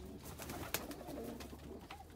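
Pigeons in Oman coo softly in the middle distance, low murmuring calls over a steady outdoor hum, with one brief sharper sound partway through.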